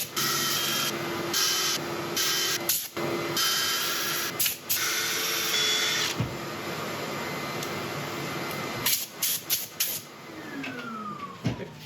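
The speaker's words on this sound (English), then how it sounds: "I'm going to set it for sanding again" Sanding a highly figured maple bowl, cut from guitar stock, on a wood lathe: a steady loud broadband hiss and whir runs throughout, broken by brief dips and scuffing bursts as the abrasive shifts on the spinning wood.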